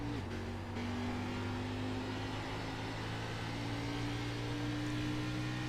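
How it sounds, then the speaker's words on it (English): A Ford Mustang race car engine in a racing video game holds a steady droning tone, with no clear revving, at moderate volume over a dense background hum. "You can hear that Ford Mustang engine."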